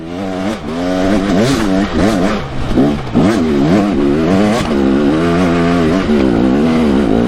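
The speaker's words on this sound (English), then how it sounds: "I'm feathering the clutch, but I'm keeping the motor up." Close, loud motorcycle engine climbing a steep hill, revs rising and dipping in wavering sweeps as the clutch is slipped to hold high RPM, continuous and alone without talk.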